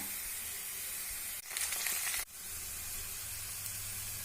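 Curry leaves hit a hot pan of softened sliced onions, giving a steady close frying sizzle that surges into a brief louder hiss and crackle before settling back to an even sizzle.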